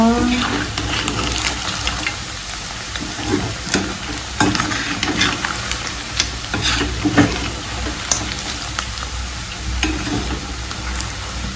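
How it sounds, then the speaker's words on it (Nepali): Meat fries in a pan with a steady, close sizzle and crackle. Scraping stirs come through now and then. "यसले चाहिँ हाम्रो यो मासु चाहिँ फ्राई भएर यत्तिको हुँदैछ।"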